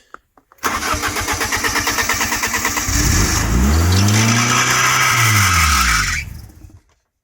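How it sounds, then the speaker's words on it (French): A BMW 318is E36 engine cranks with a rapid rhythmic starter whir, then catches and revs up and back down before cutting off, loud and close. "là on va voir si la voiture démarre après l'installation du capteur"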